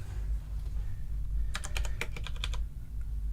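Keys on a computer keyboard clatter in a quick, close burst of about a dozen taps lasting around a second, over steady low room hum.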